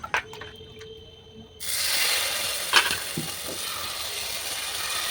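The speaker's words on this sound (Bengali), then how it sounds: "ভালো করে ফের তেল দিয়ে নেওয়া হচ্ছে।" Pitha sizzling in hot oil in a pan, a steady broadband frying hiss that starts abruptly after a quiet moment and continues evenly, with a brief spatula scrape partway through.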